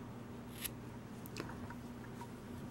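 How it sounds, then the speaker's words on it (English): Scissors snip through crochet yarn once, a single quiet, crisp cut over faint room hiss, with a softer click shortly after. "cut my yarn."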